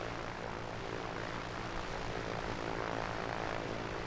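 Propeller airplane taxiing at Billy Bishop airport in a flight simulator, a steady low engine drone with even, sustained hum, moderately loud and unbroken, heard alone without talk.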